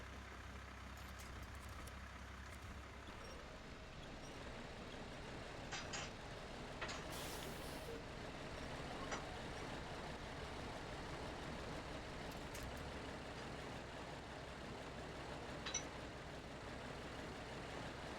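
A Mack truck engine in the SnowRunner game runs with a steady low drone throughout, crawling slowly over rough terrain, with faint clicks on top.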